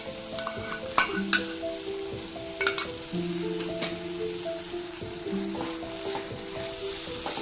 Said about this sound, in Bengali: সসটা অ্যাড করে দেওয়ার পরে এটা আমি ভালো করে নাড়িয়ে নিচ্ছি